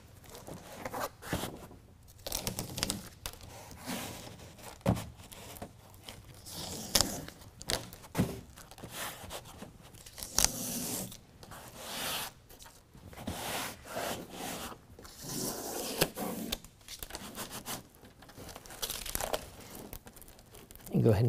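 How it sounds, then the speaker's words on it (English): Velcro peeled back from a BedRug Impact bed liner beside the tailgate of a 2021 Ford F-150, giving repeated rough tearing and crinkling rasps in bursts, close and fairly quiet. "start peeling back our Velcro and attach that up next to the tailgate"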